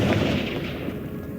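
A Confringo spell blast in Hogwarts Legacy, a single loud booming explosion that hits at once and then rumbles and fades over about a second.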